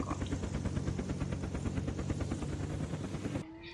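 Helicopter in the video game Unturned, its rotor chopping in a fast steady rhythmic beat that stays loud and close, then cuts off abruptly near the end.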